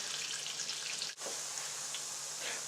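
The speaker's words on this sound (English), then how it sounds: "adding some onion, bay leaves and garlic into that oil" Onion, bay leaves and garlic frying in oil in a pan, giving a steady, even sizzling hiss with a brief dip partway through, fairly quiet and heard on its own.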